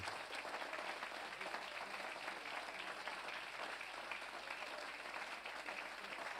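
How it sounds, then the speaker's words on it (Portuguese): Church congregation applauding, a dense, even wash of clapping that holds steady for several seconds at a moderate, somewhat distant level. "Uma salva de palmas para eles, porque eles merecem também."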